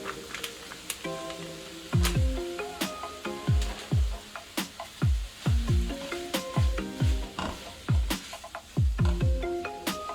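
Shrimp dropped into a hot pot for a quick one-pot meal: a continuous sizzle under repeated clattering stirs and utensil knocks, rhythmic and fairly close.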